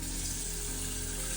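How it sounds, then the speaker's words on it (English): A tap runs steadily into a small pasta pot, a continuous bright hiss of splashing water, close and fairly loud, with no pauses. "let's get a little bit of water in our pot"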